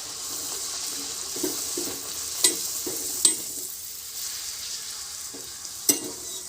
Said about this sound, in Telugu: ఇప్పుడు పెద్ద సైజు పూరీని అయితే వేస్తున్నాను